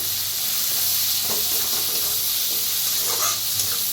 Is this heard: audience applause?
no